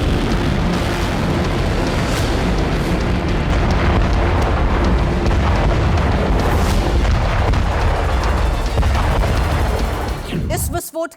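A blast on an Iranian gas pipeline roars as a loud, dense, sustained rumble with crackling bursts, staying steady for about ten seconds before cutting off abruptly.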